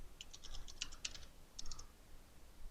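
Rapid typing on a computer keyboard, crisp clicking keystrokes in two short bursts with a pause between, fairly close and alone over a quiet background.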